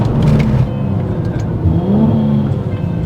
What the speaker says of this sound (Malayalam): This is A proper V6. And ആ V6-ൻ്റെ ആ ഒരു ബെല്ലോ, ലൈക്ക് വെൻ ഇറ്റ് ആക്സലറേറ്റ്സ്, ആ ഇൻഡക്ഷൻ റോഡർ ഉണ്ട്